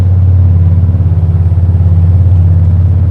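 A farm truck's engine idles loudly and close by in a steady, throbbing low rumble with an even pulsing beat, heard on its own without talking.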